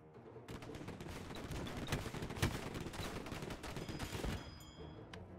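Rapid gunfire from airships in the steampunk strategy game Conquer the Skies, dense overlapping shots and booms in a sustained barrage lasting several seconds, with a few sharper louder reports near the middle before it thins out.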